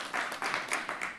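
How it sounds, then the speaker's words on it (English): Brief burst of audience applause at a town hall event, quiet and fairly faint, with rhythmic clapping swells over about a second. "So let's give them a round of applause."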